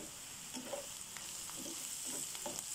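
Herbs such as oregano and fresh black pepper sautéing in a pan, giving a steady soft sizzle with a few light scrapes of stirring, close and alone without talk.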